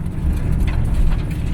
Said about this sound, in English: I'm gonna do a quick little drive in this thing.